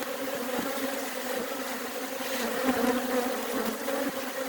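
Honeybees fanning at a hive entrance hum steadily at close range, a dense continuous buzzing drone of many wings fanning together, with no voices.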